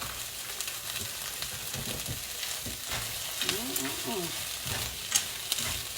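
Food fries in a pan while being stirred around, a steady close sizzle with repeated scraping and clacking strokes of a utensil, and faint background murmur or music underneath.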